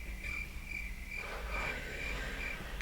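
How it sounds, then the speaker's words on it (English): Crickets chirp steadily over a faint background hum, a repeating high trill of evenly spaced pulses added as a sound effect. "This is where I insert crickets."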